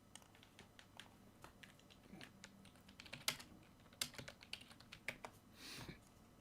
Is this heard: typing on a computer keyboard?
yes